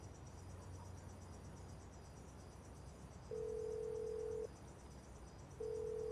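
A steady electronic ringback tone sounds in two long beeps with a pause between, over a faint insect-like hiss.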